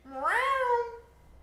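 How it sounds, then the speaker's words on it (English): A single clear cat meow, rising then falling over about a second, close and fairly loud with no talk, heard alongside a Valorant esports match broadcast. "Love that kitty."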